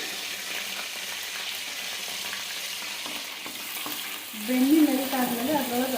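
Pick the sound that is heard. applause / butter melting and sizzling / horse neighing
butter melting and sizzling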